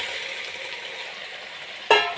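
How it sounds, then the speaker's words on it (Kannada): Brinjal frying in a pan gives a steady hiss and sizzle throughout, then a brief sharp clink of a utensil near the end. "ಸ್ವಲ್ಪ ಬದನೆಕಾಯಿ ಫ್ರೈ ಆಗಲಿ"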